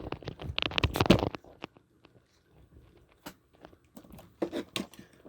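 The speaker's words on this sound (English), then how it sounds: "I'm very, very sorry if you can hear a bit of rustling in the background." A cat scratches and rustles in a litter tray indoors, soft crunching and scraping bursts close by, loudest at the start and then sparse and faint.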